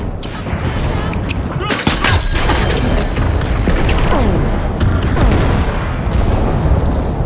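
A grenade bursts with a loud booming blast about two seconds in during a match of the video game The Finals, surrounded by dense, continuous gunfire and game action.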